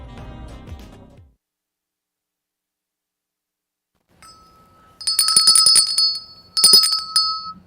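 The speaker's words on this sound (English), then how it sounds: "There's nothing wrong with my bell." Bright metallic bell rings in two short bursts, each with a shimmering ringing tail, after a brief stretch of silence, loud and close.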